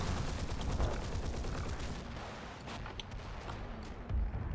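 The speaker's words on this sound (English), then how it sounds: "you can hear Jen's mortars firing" Mortars fire in Combat Mission: Battle for Normandy amid dense, overlapping gunfire, a rapid crackling barrage with heavier thumps near the start and end, loud and continuous.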